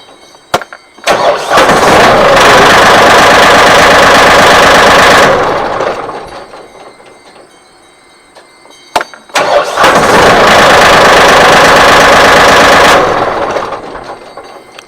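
A Mahindra 1635 tractor with a starter problem cranks and catches twice. Each loud, close start runs for about four seconds, and a quiet pause separates the two.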